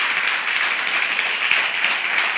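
A church congregation applauds together during a Spanish-language sermon, a dense, steady wash of clapping that fills the space without pause.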